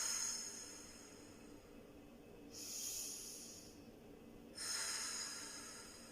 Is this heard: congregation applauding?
no